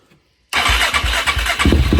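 A Suzuki LTR450 quad engine cranks over and fires after a moment of silence, then settles into a loud, close idle with steady pulsing exhaust and a brief blip of revs near the end.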